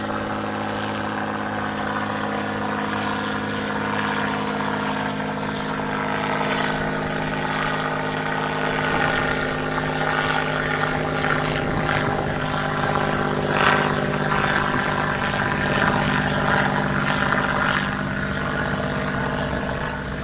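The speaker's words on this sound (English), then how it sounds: "Sharing the airspace today with one of the banner planes." A banner-towing propeller plane drones steadily overhead, its engine hum loud and continuous throughout, with a slight rise in intensity partway through.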